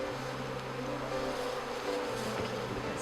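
Honeybees hum around a hive box in a steady, dense buzz close to the microphone that holds throughout without pause.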